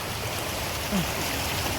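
Steady broadband rush of Hua Chang waterfall in a Thai forest, a continuous wash of falling water filling the clip with no break.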